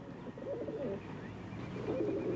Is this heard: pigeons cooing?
yes